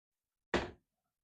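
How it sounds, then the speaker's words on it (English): A cabin door on the Norwegian Getaway cruise ship bumps without latching, giving one short, close thud in an otherwise silent room. "And that door's not closing."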